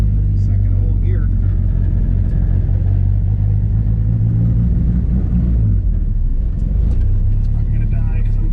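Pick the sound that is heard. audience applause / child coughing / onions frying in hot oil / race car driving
race car driving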